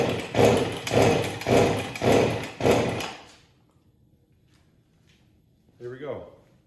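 Five rhythmic starter-cord pulls on a scored Husqvarna 272XP chainsaw with the ignition off, each a loud rasping whir about half a second apart, then quiet and a brief voice.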